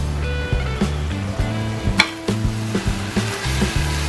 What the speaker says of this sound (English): You can hear the sizzling right now.